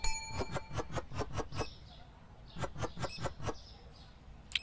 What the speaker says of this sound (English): And I just heard my bell go off.